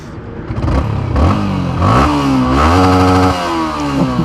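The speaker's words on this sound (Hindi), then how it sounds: "इस बाइक का जो स्टॉक एग्जॉस्ट का जो साउंड है थोड़ा सा सुन लो" A Yamaha R15 V3 motorcycle on its stock exhaust revs loud and close, the engine note climbing and falling through several throttle blips with a raspy, buzzing edge.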